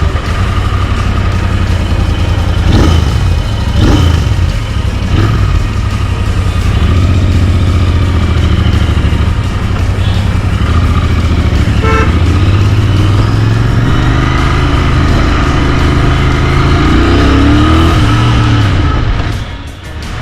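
A Royal Enfield Interceptor 650 rides through Kolkata city traffic with a loud, close engine drone that holds steady and rises and falls with throttle changes, along with faint horns and street noise. Nobody talks.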